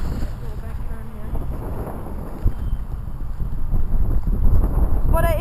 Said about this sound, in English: it's pretty windy out today, guys